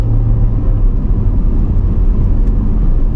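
A Corvette V8 roars under hard acceleration with the throttle mashed, a loud, dense, steady rumble heard up close from inside the car, with no voices.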